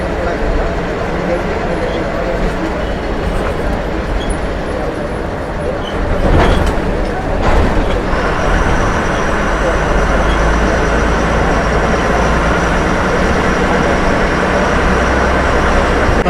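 Steady interior rumble of a KSRTC bus moving through Bengaluru city traffic, a loud continuous engine and road drone with a brief louder burst midway, no speech over it.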